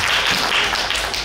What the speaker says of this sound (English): Okay, give me a round of applause.